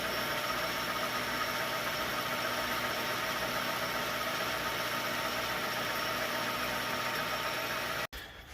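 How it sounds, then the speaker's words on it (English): A lathe cutting 3/4 by 24 threads on a rifle barrel for a PRS rifle, making a steady, loud machine hum and whir that runs evenly and then cuts off abruptly near the end. "we're going to go ahead and cut the threads"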